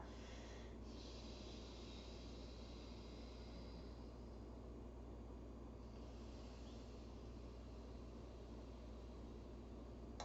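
Ujjayi yoga breathing with a constricted throat, a steady ocean-like hiss of slow inhales and exhales sustained throughout, soft and close with no talking.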